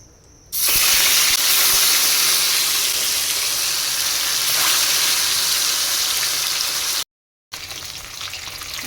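Pieces of silver carp fish frying in hot oil for a Bengali fish curry, a loud, dense, continuous sizzle and hiss that starts abruptly, cuts out briefly near the end, then resumes.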